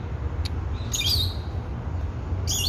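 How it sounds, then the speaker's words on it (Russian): A small bird in a flower shop gives a few sharp, high chirps, one brief note and then two short bursts a second apart, close and clear over a low room hum. "Это кто же здесь чирикает?"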